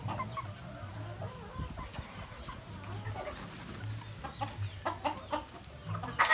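A hen, a 50-50 cross with asil, clucking in low, repeated bursts among chicks, with soft peeps and farmyard background close by.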